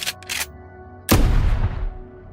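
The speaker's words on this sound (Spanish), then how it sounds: "Un disparo ensordecedor resonó en la naturaleza" A single loud rifle shot booms with a sharp crack and a long rolling echo that fades away; a brief rustle comes just before it.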